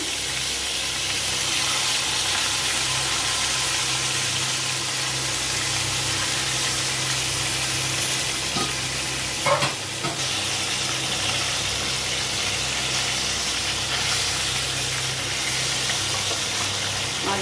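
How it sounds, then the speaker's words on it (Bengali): Salted rohu fish pieces frying in hot oil, producing a loud, continuous hissing sizzle that holds steady throughout, with a brief knock near the middle and no talking. "তেলটা গরম হয়ে গেছে এবারে মাছগুলো ভেজে নেবো"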